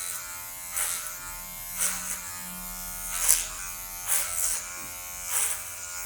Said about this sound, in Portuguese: colocar o pente 2 na máquina, ok? E você vai tirar o excesso dessa maneira aqui